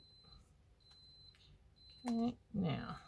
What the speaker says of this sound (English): It's my iron beeping in the background.